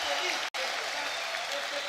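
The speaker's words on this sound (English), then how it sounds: "I don't think I've ever heard a crowd cheer more" A crowd at an esports LAN playoff event for Dota-style play, with dense applause and cheering filling the clip, briefly cut out by a short gap, while a commentator talks over it.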